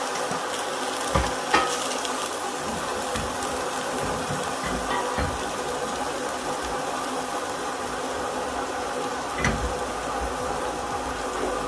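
Ginger and black pepper fry in a pan with a steady, close sizzle, broken by a few sharp pops and stirring clatters. No one speaks.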